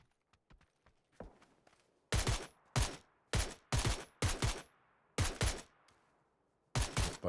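Rapid gunfire bursts in the PUBG battle royale game during an EU scrim match, starting with scattered faint shots, then loud repeated volleys of close shots in quick succession with short gaps.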